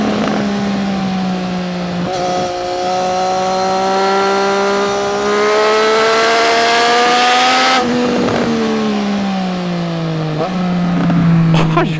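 A Triumph Street Triple 765 RS motorcycle engine revs hard through the gears, its loud, close, rising whine climbing high before dropping at each quickshifted change, with short pauses between pulls.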